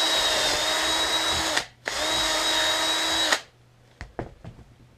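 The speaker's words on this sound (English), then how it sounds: "Just drill you another hole in there." A power drill bores a hole in two loud, steady whirring bursts of about a second and a half each, separated by a brief pause, followed by a few light clicks and knocks as it stops.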